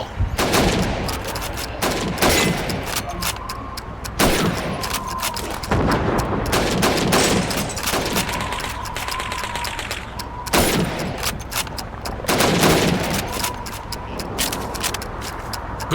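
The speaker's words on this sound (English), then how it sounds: "You have 15 seconds to shoot the helmets" Rifle shots at helmet targets on a training range in Call of Duty 2, a string of loud, sharp gunshots fired at irregular intervals of a second or two, each followed by a short echoing tail.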